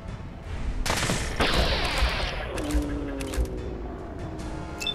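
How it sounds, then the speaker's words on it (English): Rapid gunfire exchange in Fallout 4 at Gunner's Plaza, with sharp repeated shots over about five seconds, some loud close bursts and ringing tails, and no talking. "Why is everyone shooting at me?"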